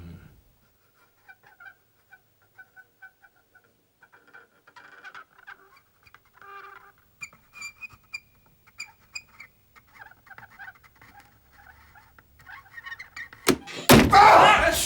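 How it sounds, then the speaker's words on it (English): A heavy, sticking door is forced open with a hard shove, producing a sudden loud scraping burst at the very end, after quiet faint creaks and small knocking sounds. "That door really sticks. I had to give it a massive shove to get it open."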